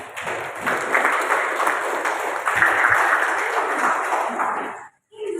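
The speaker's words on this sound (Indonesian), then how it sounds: "Tepuk tangan untuk saya dong." Audience applause at a public discussion forum in Purwokerto, a broad, fairly loud patter of many hands that holds steady, then cuts off abruptly near the end before a brief return.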